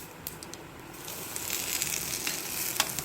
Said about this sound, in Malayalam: ഇതൊന്ന് വഴറ്റിയെടുക്കട്ടെ.